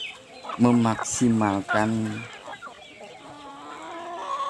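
Chickens cluck and call on a poultry farm while someone talks over them in Indonesian, the birds continuing faintly after the speech.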